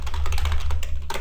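Fast, close typing on a computer keyboard while coding a JavaScript and PHP web application, a dense run of crisp key taps with no pauses over a low steady hum.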